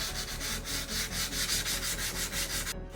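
Rhythmic back-and-forth scratchy rasp of sanding a resin 3D-printed helmet, close and loud, with even strokes repeating roughly every quarter second before stopping abruptly.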